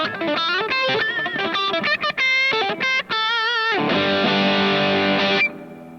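Distorted electric guitar played through a V-shaped, sharply mid-scooped EQ impulse response: quick picked riff notes and bends, then a sustained ringing chord held for about two seconds before cutting off.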